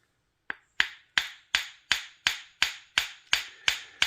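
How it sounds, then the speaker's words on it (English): A small bench hammer taps steadily on a knife's pivot pin, a custom D2-blade titanium folder, giving about ten sharp, evenly spaced metallic strikes close up with no talking. "I'm going to give this a tappy tap. See if I can't get that pivot to come out of there."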